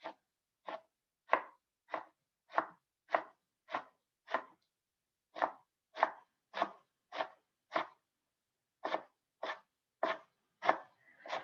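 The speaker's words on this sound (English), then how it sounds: "So I'm just chopping just the white part first." A knife chops the white part of a vegetable on a cutting board, with about eighteen crisp, evenly spaced cuts in short runs separated by brief pauses, close and clear with no talk.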